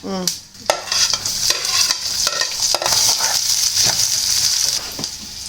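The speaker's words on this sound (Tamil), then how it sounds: "வெங்காயத்தை போட்டுக்கிறேன்" Onions go into hot oil in a pan for a spicy garlic curry and crackle loudly. Quick spatula strokes scrape and stir through a dense, steady sizzle that fills the clip, with no talk.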